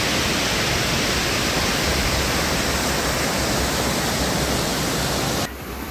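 Flooded Damodar and Bhairavi rivers roar with a dense, constant rush of churning water, loud and close, that drops off abruptly at the very end.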